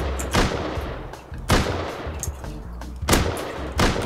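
Python revolver fired in a video game, four sharp, loud shots spaced about a second apart over a busy game soundscape.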